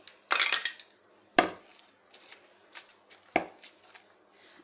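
Ice cubes are lifted out of whipped ghee for ghevar, giving several sharp clinks and knocks against a bowl spread over a few seconds, with soft scraping between them.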